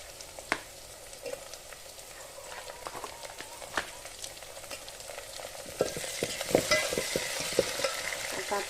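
Tomatoes dropped into fried onions in a pan, a soft crackling sizzle with scattered clinks and scrapes of stirring that grows louder and busier toward the end, no talking.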